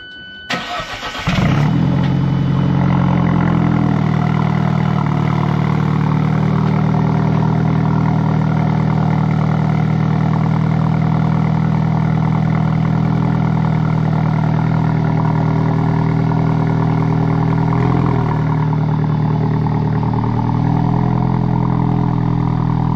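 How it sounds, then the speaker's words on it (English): An Alfa Romeo 4C fires up from cold with a sharp crank and catch, then settles into a loud, steady, high-revving idle that runs close and unbroken, dipping slightly near the end. "Cold start."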